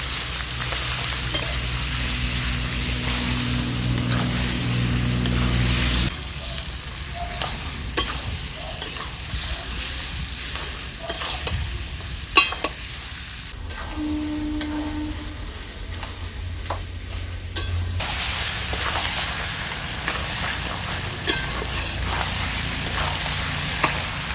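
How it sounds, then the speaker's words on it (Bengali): Olives being stirred in a pan while cooking a pickle: scraping, clattering spoon strokes and a soft sizzle, with occasional sharp knocks against the pan, close and steady with no talking. "সুন্দর করে জলপাইটাকে এবার আমি নাড়তে থাকবো"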